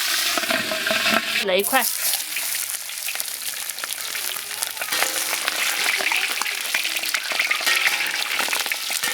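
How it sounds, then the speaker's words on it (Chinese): Pork trotters deep-fry in hot oil for a sour-soup trotter dish. A loud, crackling sizzle with bubbling spatter runs throughout, and a voice briefly speaks near the start. "好，油温烧热了，下入这个炸，我们小心点。"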